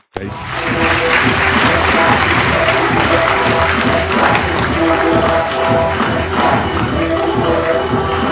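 Loud, sustained applause from a large seminar audience in Delhi starts abruptly and continues as a dense roar of clapping for over eight seconds, with crowd noise mixed in.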